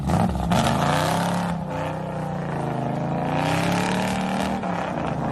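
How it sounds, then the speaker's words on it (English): A Shelby GT500 V8 muscle car engine rumbles loudly, revving up and settling into a deep throaty idle and drone, close and continuous with no talking. "It's an American muscle car. Great sound."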